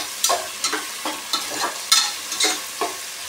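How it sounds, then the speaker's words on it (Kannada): Ingredients for a quick breakfast rice, with tomato and curry leaves, sizzle together in a pan while a spoon stirs, scraping in a steady rhythm of about eight strokes over a constant soft frying hiss. "ಈ ರೀತಿಯೇ ಎರಡು ಒಟ್ಟಿಗೆ ಹಾಕ್ಕೊಂಡು ಫ್ರೈ ಮಾಡ್ಕೊಳ್ಳೋದು"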